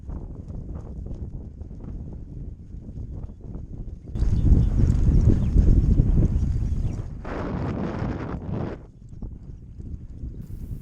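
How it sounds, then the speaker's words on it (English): A horse trotting outdoors across pasture toward a fence line, its hooves making steady rhythmic thuds under strong wind noise on the microphone, loudest in the middle stretch. "We trotted back to the fence line"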